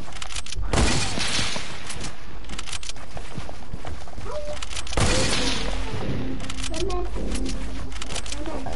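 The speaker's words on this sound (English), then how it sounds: "I'm just gonna use a hunting rifle" Hunting rifle shots in a video game arena match, two sharp cracks several seconds apart over constant game noise, with a person talking throughout.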